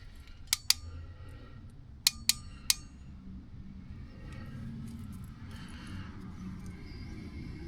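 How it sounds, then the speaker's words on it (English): Mirror wires on a 2014-2019 Silverado or GMC truck are spliced, with sharp cutting snips: a pair early on and then three in quick succession. Quieter handling and rustling follow. "So I'm going to splice these wires together."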